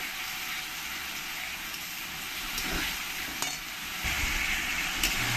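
Ginger, garlic and green chili paste being stirred into a frying masala for chicken dopeaza, a constant broad hiss of frying with occasional spoon scrapes, fairly quiet and even throughout, no talking.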